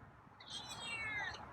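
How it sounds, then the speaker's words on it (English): A feral cat gives a single drawn-out meow, fairly near and moderately loud, its tone rising and falling over about a second above a low background hum, with no talking. "New meow?"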